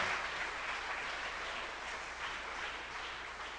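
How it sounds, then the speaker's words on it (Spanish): A church congregation applauding, a dense, even wash of clapping from many hands, moderately distant and steady for a few seconds without speech. "Dale fuerte ese aplauso al Señor."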